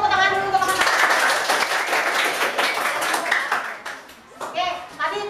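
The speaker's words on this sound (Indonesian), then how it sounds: "kasih tepuk tangan dulu untuk teman-teman" Children in a sixth-grade classroom clap for their classmates, a lively rush of many small hands lasting about three seconds, with a teacher's voice speaking before and after.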